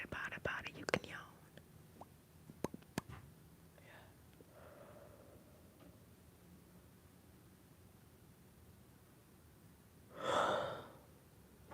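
A single drawn-out, breathy yawn swells near the microphone late in a quiet ASMR livestream, after some earlier soft clicks and rustles.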